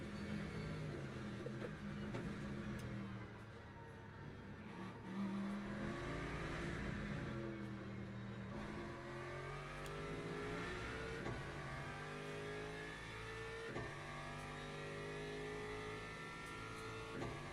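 LMP3 race car engine in the sim racing game Le Mans Ultimate, revving and shifting with repeated rising and falling tones through gear changes, steady and fairly close, with no talk.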